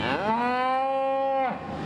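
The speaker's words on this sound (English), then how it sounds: "the cows are mooing at the Cow Palace" A cow gives one long, loud, nearby moo with a rising then steady tone, heard alone amid faint hall ambience at a dairy and beef cattle show at the Cow Palace.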